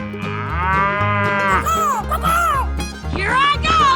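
Loud, drawn-out cow moos from a 3D animal video game, with several bellowing calls that rise and fall one after another and a brief break in the middle.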